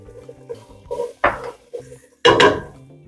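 A spoon scrapes and clatters around a cooking pot of sautéing onions, celery, carrots and butternut squash, with a few soft clinks followed by two louder stirring bursts, close and with no talking.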